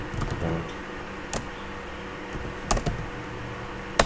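Fingers tap out a command on a computer keyboard, a few scattered clicking keystrokes with pauses between them, fairly quiet and close in a calm room.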